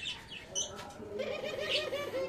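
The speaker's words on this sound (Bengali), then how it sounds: "এটা হচ্ছে আমার ঘুঘু পাখির কলোনি।" Doves coo in a home dove colony, a soft, low, repeated call that rises through the second half over faint chirps and rustling.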